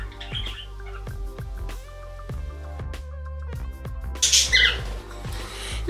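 A pet cockatiel gives bright squawks and chirps in bursts, the loudest calls coming near the end, over a steady low background of repeated soft clicks and tones.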